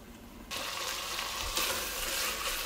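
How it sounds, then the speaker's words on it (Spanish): Beef cooking in a pan for a Mexican dish of meat with green beans in roasted chilaca chile sauce, a steady broadband sizzle that jumps louder after a quiet start and holds close and continuous, with no voices. "Aquí ya se nos está cocinando la carne."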